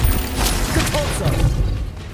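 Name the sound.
Compulso spell effect in Hogwarts Legacy video game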